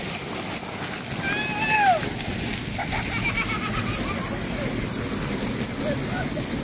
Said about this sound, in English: Big waterfall at the end here.